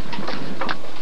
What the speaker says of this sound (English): The donkey.